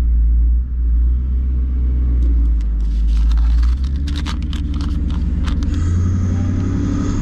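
A twin-turbo 2019 Ford Mustang GT accelerates down a drag strip, a loud, deep engine rumble building with crackling bursts as the car pulls hard, heard alone without talk.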